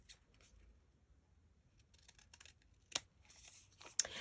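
Scissors snipping through paper while cutting out a fold-up envelope pocket tag, with a few sharp, close clicks and crisp snips scattered across an otherwise quiet stretch.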